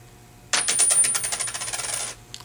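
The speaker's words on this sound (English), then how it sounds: "this is the silver coin. Real high pitch ring. This is the standard coin." Two coins dropped and ringing one after the other: a silver coin and a standard coin, each giving a bright, high metallic ring with rapid bounces, loud and close, the first ring longer, the second brief and fainter.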